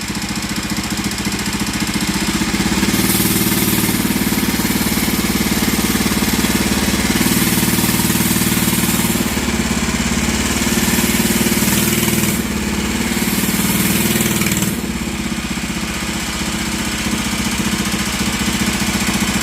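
A Bolens Husky 800 garden tractor, revived after sitting parked for 14 years with a freshly rejetted carburetor, runs steadily up close, its loud engine drone rising and falling in pitch as it is revved, with no talk.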